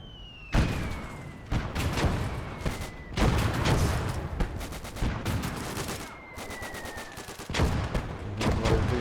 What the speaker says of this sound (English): a lot of infantry come shooting down the middle here